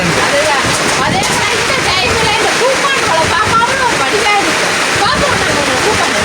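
Heavy rain pours down steadily on a house, a dense continuous wash of falling water with splashing, loud and close throughout, with people talking over it.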